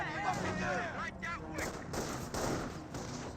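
Panzer Grenadier suppressive gunfire in Company of Heroes 1, repeated bursts of rifle and machine-gun fire against riflemen in cover, mixed with game unit voices and battlefield noise.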